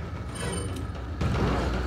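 A weapon being reloaded in Resident Evil 4, heard as a short run of mechanical clicks and ratcheting clatter, close and fairly loud, with a heavier clunk near the end.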